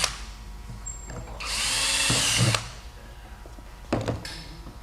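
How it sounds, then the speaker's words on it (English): A power drill bores quarter-inch holes in a 13-gallon fuel tank in an S7 retrofit, with one loud, steady whirring burst of about a second and a shorter burst later, plus light clunks between them. "We'll then drill through"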